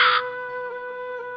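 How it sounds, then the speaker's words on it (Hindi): A cartoon crow gives a loud, harsh caw at the start, followed by a lingering tonal hum from the animated soundtrack. "कालू कौवा जंगल जाकर अपनी माँ सुंदरी कौवी से कुछ और पैसे उधार लेता है"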